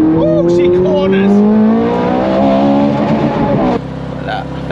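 A Ferrari 430 Scuderia engine revs and accelerates loudly nearby, its exhaust note rising in pitch, then drops abruptly to a lower, steadier rumble.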